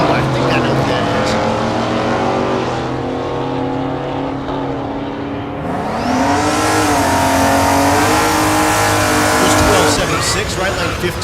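Drag racing at Thunder Valley in Noble, Oklahoma, with a stick shift Chevelle in the left lane: loud, close engines roar and rev at launch with rising pitch, continuing throughout while an announcer's voice talks over them.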